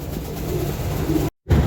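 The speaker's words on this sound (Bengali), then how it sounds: "এখানে একটা নর কবুতর দিলাম" A large male racing pigeon gives soft, low, continuous cooing close by, briefly cut off by a moment of silence near the end.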